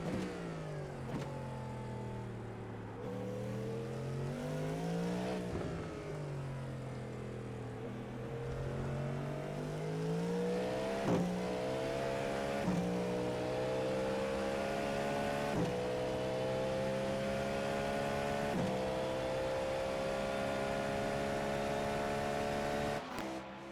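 GT3 race car engines in an IMSA racing video game rev up and down through repeated gear shifts as cars run three wide, a steady loud whine rising and falling with no talk.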